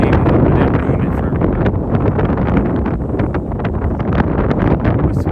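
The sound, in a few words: strong wind by the water in New York City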